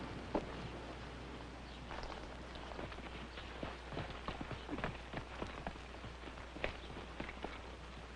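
Horse hooves clip-clopping in a 1958 Western frontier drama, a faint, uneven run of soft hoof strikes continuing throughout without speech.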